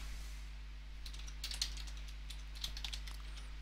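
Fingers tap out a password on a computer keyboard for a game registration, a quiet irregular run of light key clicks in small bursts over a low steady hum, with no one speaking.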